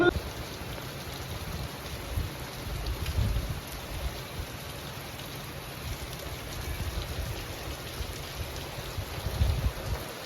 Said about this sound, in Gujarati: અત્યારે વરસાદ ચાલુ જ છે